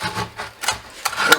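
Screwdriver scraping and prying under a snowmobile ski on a Gen 4 Ski-Doo 850, with a few short rasping metal-on-plastic scrapes and knocks close by, no talk.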